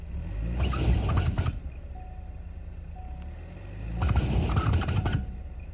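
A Ford Bronco Sport Badlands spins its tires in snow without grip: two long bursts of revving engine and whirring, scraping wheelspin, separated by a quieter idle, close and loud.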